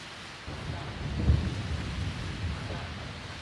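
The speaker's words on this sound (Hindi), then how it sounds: "अरे यार इस बारिश को भी अभी आनी थी।" Steady rain hisses in the background while a low rumble of thunder rolls through, swelling briefly before fading back into the rainfall.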